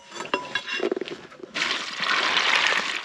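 Hot water gushes into a dog's food bowl in a loud, close pour lasting a couple of seconds, preceded by a few clinks and light handling sounds.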